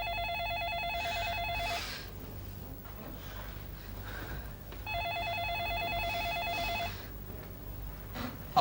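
A telephone rings in two bursts of bright repeated trills, each nearly two seconds long, with a quiet pause between them over a low steady background hum.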